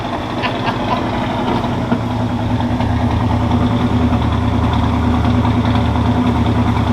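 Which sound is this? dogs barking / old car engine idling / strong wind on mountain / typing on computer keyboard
old car engine idling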